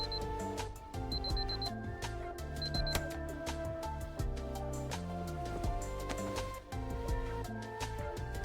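Alarm in The Hundred Line Last Defense Academy, a short repeated high electronic beeping in quick bursts layered over loud, busy game music.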